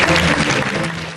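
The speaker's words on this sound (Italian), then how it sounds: "Gli applausi finali al termine dello spettacolo Quattro donne e una canaglia" Closing applause from a theatre audience at the end of the stage comedy Quattro donne e una canaglia, a dense, steady wash of clapping that fills the whole short moment at close range with no voices.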